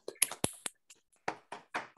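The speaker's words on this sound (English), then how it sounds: "let's all unmute ourselves and give Gautam a round of applause" A small online audience on a video call claps: a handful of sparse, irregular hand claps and taps, close and uneven, lasting about two seconds with no talking.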